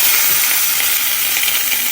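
Impossible Burger plant-based meat hitting a hot pan, a steady, dense hissing sizzle held at an even loud level for a couple of seconds, close up with no talking.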